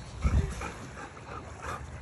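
A dog gives a single close bark near the start, then softer whimpers and yips follow over steady outdoor background noise.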